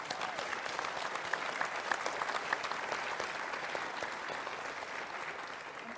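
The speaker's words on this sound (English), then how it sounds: "People were applauding." An audience applauding the Senator at a political debate, dense sustained clapping from a large crowd that holds steady throughout before easing slightly at the end.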